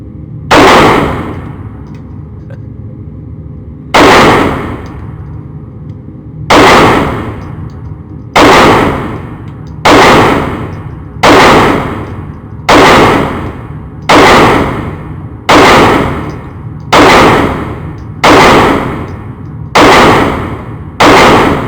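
Springfield Hellcat pistol fired at a shooting range, about twelve sharp, loud shots spaced a second or two apart with a steady rhythm, each followed by a brief ringing decay, with no talking.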